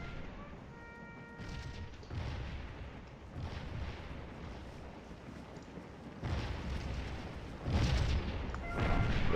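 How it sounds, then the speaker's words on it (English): Artillery fire in the Civil War battle game Scourge of War, set at a May 3rd, 1863 dawn attack: repeated deep booms and rumbling bursts, some distant and some closer, building louder toward the end, with no talking. "As far as the artillery fire goes."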